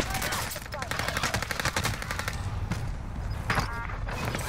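Sustained rapid gunfire in Call of Duty Warzone, a dense run of automatic shots with heavy battle noise throughout and a few sharper cracks near the end.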